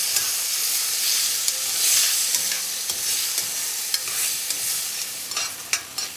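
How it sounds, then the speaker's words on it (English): Carrots, garlic and onion sizzle and hiss in a hot pan while a utensil stirs them, loud and close, with scattered scrapes and clicks over the constant frying. "Okay, time to add the carrots, garlic, and onion. I'm gonna saute that for about 6 to 7 minutes"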